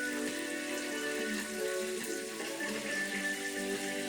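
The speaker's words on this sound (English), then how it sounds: "I'm gonna add some water." Water pours steadily into a cooking pot in a home kitchen while chicken and vegetable rice is being prepared, a continuous close splashing and trickling with faint sizzling beneath and no talking.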